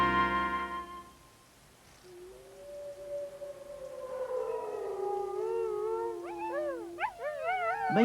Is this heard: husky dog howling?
yes